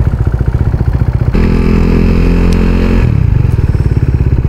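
A KTM RC 390 motorcycle on an early-morning ride hums steadily and close. Its engine pitch shifts and rises in a couple of places as it changes speed.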